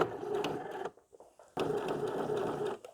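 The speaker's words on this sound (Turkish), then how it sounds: "Hemen nervür dikişimin dibinden çok dikkatli olarak fark edilmeyecek şekilde dikişimi yapıyorum." A domestic sewing machine stitches right beside a pintuck seam on a bedspread cover, running in a steady rapid whir, pausing briefly mid-way, then resuming close and clear.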